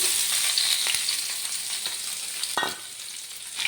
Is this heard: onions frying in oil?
yes